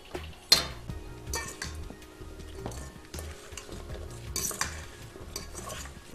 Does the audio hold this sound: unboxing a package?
no